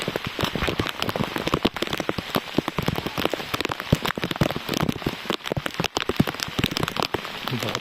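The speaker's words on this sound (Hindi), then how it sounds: "बहुत तेज़ बारिश हो रही है।" Heavy rain pours steadily on a jungle trail, a dense, continuous patter of drops hitting leaves and surfaces, loud and close throughout, with no voices.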